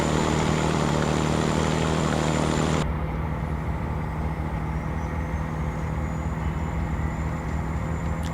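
Engine of a Freightliner FLD truck in American Truck Simulator hums at a steady idle, loud and bright at first, then abruptly muffled and duller as the listening position shifts, with the low drone continuing throughout.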